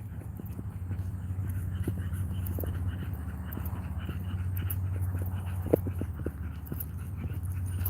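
A dog trots alongside its owner on an off-leash outdoor walk, its steady panting breaths running as a continuous rhythmic rasp, with a few faint footfalls and small ticks scattered over a low background rumble.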